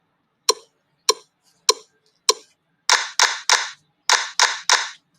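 Sharp hand claps in a music lesson rhythm: four evenly spaced single claps, then two quick groups of three, crisp and close with silence between.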